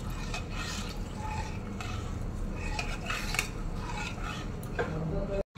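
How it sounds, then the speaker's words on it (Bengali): A metal spoon clinks and scrapes against a pan while custard mixture is stirred into milk, a continuous rhythmic clatter with occasional louder knocks, close and moderately quiet. "দেখো এই গোলায় কাস্টার্ডটা এবারে আমি এই দুধের মধ্যে মিশিয়ে দিচ্ছি"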